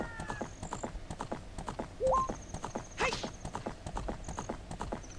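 Horse hooves clip-clop in a steady galloping rhythm while riding in the video game Ocarina of Time, with a brief whinny partway through over game music and effects.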